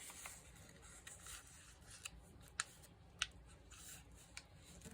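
Scissors cutting through book-page paper for a winter craft, producing quiet, close snips and rustles with a few sharper blade clicks spaced apart.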